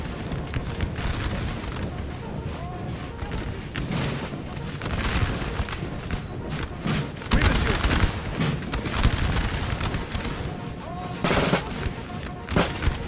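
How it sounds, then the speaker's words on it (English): Musket volleys crackle and boom continuously across a Napoleonic battle in Napoleon Total War 3, dense overlapping gunfire with rumbling explosions throughout, a steady roar with no pauses. "The defense, the UK are just firing volleys and pulling back"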